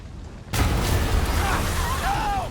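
A sudden loud bomb explosion bursts in during Marvel's Spider-Man game, followed by a sustained rumbling roar with faint high whines over it.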